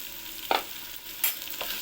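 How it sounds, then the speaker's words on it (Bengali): Pulao rice frying in ghee in a pan as it is stirred, a soft sizzle with a few sharp scraping strokes of the spoon, close and alone without speech. "এখন আমি এখানে অ্যাড করে দিচ্ছি আমার মেখে রাখা ঘি এবং পোলাও"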